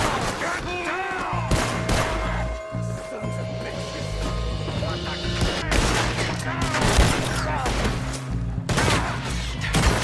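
Rapid gunfire rings out in a Red Dead Redemption 2 shootout, a dense fusillade of overlapping shots with echoing booms and brief lulls, with game voices mixed in.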